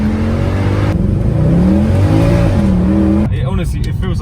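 Car engine revving with a rising, whining turbo-like pitch, loud and close over wind rush, with voices talking over it.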